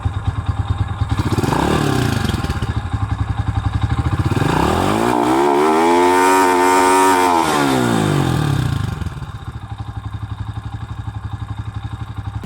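A motorcycle engine with rejetted carburetor idles, then revs up hard to a high, sustained whine before dropping back to a rough, loud idle.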